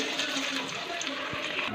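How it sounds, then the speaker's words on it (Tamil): Water boiling in a cooking pot on the stove, a steady close bubbling hiss with no pauses. "பார்த்திங்கன்னா நல்லா கொதிக்குது தண்ணி."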